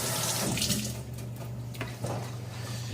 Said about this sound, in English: Let me rinse my hands off real fast.